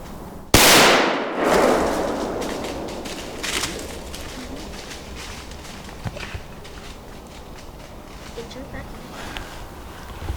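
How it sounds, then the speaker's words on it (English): A rifle fires at a doe during a deer hunt: one sharp, loud crack that rolls off into a fading outdoor echo, followed by quiet rustling and faint movement. "As you can see, he just shot a doe."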